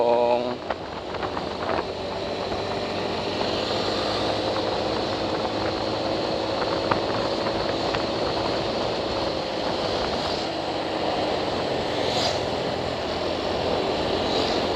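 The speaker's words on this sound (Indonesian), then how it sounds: "Ini aku belum ganti oli nih motor, jadi rada kasar gitu bunyinya." A motorcycle overdue for an oil change runs rough while riding, giving a continuous buzzing engine drone with shifting pitch and steady road and wind noise throughout.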